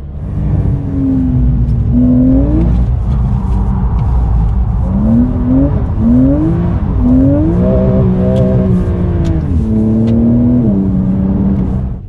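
Engine of a Mercedes-AMG GT heard from inside while driving in convoy with an Audi RS5 and a Porsche 911, a loud continuous drone rising and falling through gear changes and throttle.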